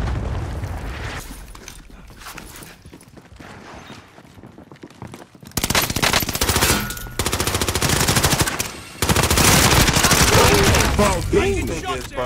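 Gunfire on Rebirth Island in Call of Duty Warzone: rapid automatic bursts rattle in close, loud strings, quieter shots at first, then heavy sustained fire with short breaks, over game sounds and footsteps.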